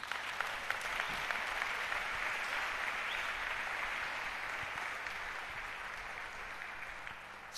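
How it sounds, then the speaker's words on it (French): A church congregation applauds for Jesus during a French-language sermon, a steady sustained wash of many clapping hands at moderate distance that fades slightly toward the end. "Acclamons Jésus."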